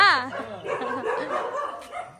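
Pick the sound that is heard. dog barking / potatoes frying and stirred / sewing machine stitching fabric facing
dog barking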